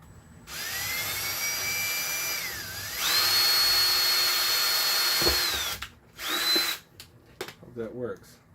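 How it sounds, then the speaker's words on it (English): A power drill whines loudly in two long runs, its pitch rising as it spins up, then short bursts and faint clatter follow. "I want to be drilling all kinds of holes"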